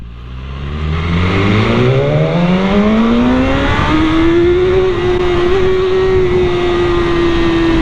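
A 2018 BMW S1000RR motorcycle pulls away on city streets, its engine note climbing steadily through the gears into a loud, sustained high-pitched howl close to the rider.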